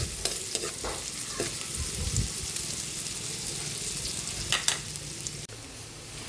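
Garlic sizzles in melted margarine in a pot for Filipino sopas, a steady close frying hiss broken by a few stirring scrapes and clinks.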